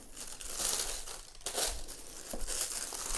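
Stock paper crinkles and rustles while Gucci Rhyton sneakers are unboxed, a close, steady papery crackle with a few louder crumpling bursts.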